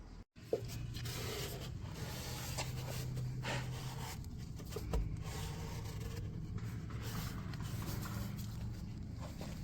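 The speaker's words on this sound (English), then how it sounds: "get yourself some tack cloth. This stuff will get all that sawdust stuck to it." A tack cloth wipes sawdust off a wooden police gear rack in steady, soft rubbing strokes, close and quiet, with a small bump near the start and no talking.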